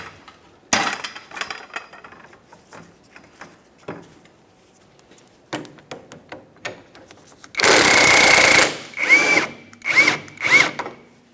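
A 17mm socket spins out the rear shock mounting bolt on a 1994-1997 Honda Accord, a near, loud sustained whirring burst followed by several shorter bursts, after scattered clicks and taps of tools.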